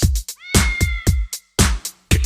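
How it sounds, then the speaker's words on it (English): A cat's meow, drawn-out and wavering, rings out over a loud, pounding rhythmic beat, with short percussive hits repeating around it. "Kitty cat."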